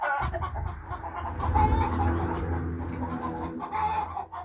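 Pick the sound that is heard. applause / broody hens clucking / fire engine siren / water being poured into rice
broody hens clucking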